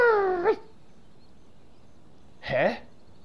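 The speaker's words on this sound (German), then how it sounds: "So, sprechen wir mit dem Hund." A dog whimpers in the video game Genshin Impact: two short whining cries, one at the start and another about two seconds later, close and fairly clear over quiet background.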